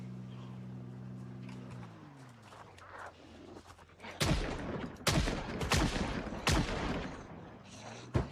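Gunshots from the Project Zomboid video game crack in a rapid, loud burst of several sharp shots after a quieter stretch, with low tonal hum fading out beforehand.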